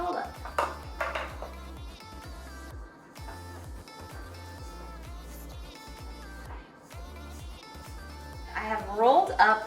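Dough of almond flour, tapioca flour and salt with a poured liquid being mixed in a bowl, a repeated rhythmic knocking of a utensil against the dish at close range, over background music with brief bright accents.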